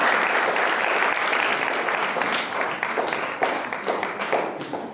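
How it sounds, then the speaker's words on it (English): An audience applauds certificate recipients at a city work ceremony, dense steady clapping that holds loudly for the whole stretch and thins slightly toward the end. "Let's give them a round of applause"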